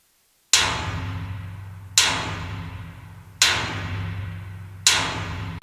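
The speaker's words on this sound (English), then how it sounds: "this is a sampled hit on a dumpster that sounds like this" A sampled metallic hit on a dumpster from Native Instruments Damage, struck four times at steady intervals, each a loud sharp crack with a resonant ringing decay.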